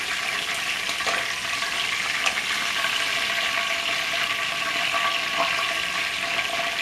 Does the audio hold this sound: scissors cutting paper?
no